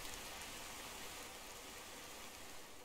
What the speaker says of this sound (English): that rain is a bit overbearing